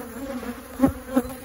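Honeybees buzzing around an open hive frame during an inspection, a close steady drone with a couple of louder passes as bees fly near.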